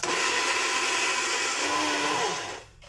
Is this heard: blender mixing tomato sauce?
yes